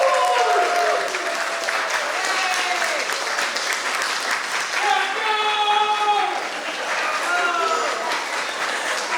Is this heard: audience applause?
yes